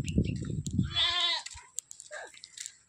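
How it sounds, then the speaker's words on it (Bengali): A goat on a village homestead gives a single clear, wavering bleat up close, preceded by some low rustling and followed by faint background sounds. "এই যে ছাগল ম্যাঁ ম্যাঁ করে।"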